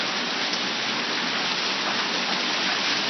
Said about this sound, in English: Check the hail out.